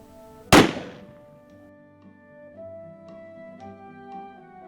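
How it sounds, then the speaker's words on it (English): A single sharp gunshot from an 1880s-style Western firearm at a ranch in Tombstone rings out close and loud, then fades into a quiet tonal hum with no voices. "learning how to shoot the guns that were popular around Tombstone in the 1880s, during the era of Doc Holliday"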